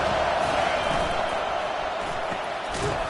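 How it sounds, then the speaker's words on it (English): Big football stadium crowd at an Army game, roaring steadily and swelling behind the defense on third down, loud and continuous with an announcer's voice over it. "Decibels rising as the crowd gets behind this defense on 3rd down"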